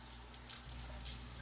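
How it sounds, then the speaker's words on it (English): A kitchen water tap runs steadily while hands are rinsed at the sink during cooking, a soft continuous splashing rush with no talking. "Rinse my hands."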